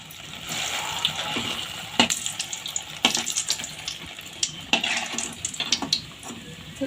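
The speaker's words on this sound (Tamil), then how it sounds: "நல்லா இப்போ நம்ம ப்ரெட்டு போட்டு பொறிச்சு எடுத்துக்கலாம்" Bread slices frying in hot oil in a kadai for bread halwa, a constant bubbling sizzle up close, broken by irregular clinks and stirring knocks from a utensil.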